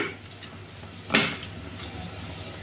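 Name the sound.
stirring egg halwa (ande ki jardi) while it cooks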